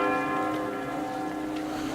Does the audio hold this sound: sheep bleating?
no